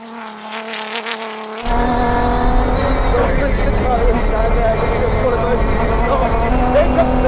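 A Dakar-spec Toyota GR Hilux and a Toyota Land Cruiser 300 GR Sport driving during a brake test, engine drone that abruptly jumps to a loud, sustained roar with rising tones, with people talking over it.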